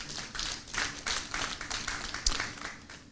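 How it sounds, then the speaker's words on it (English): Audience applause at a financial inclusion dialogue forum, a steady patter of many hands clapping for about three seconds at moderate distance, with no voices over it. "we deserve to give ourselves a round of applause"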